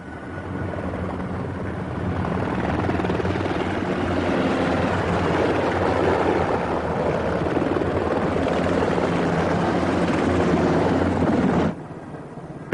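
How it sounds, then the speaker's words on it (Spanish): A modern military helicopter flies past with a steady, loud, broadband roar of rotor and turbine that holds for about twelve seconds before dropping off abruptly. "Su movilidad deriva del avanzado diseño del helicóptero militar moderno en todas sus múltiples formas: observación, transporte y transporte pesado."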